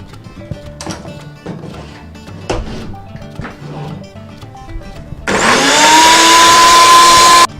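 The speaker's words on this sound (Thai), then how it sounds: "แล้วเราก็จะปั่นนะคะเหมือนเดิมเลยค่ะ" A kitchen blender purees cooked rice and tomato into porridge for a six-month-old baby. It comes in after some clattering and handling noises, then runs as a loud steady whir that rises in pitch near the end.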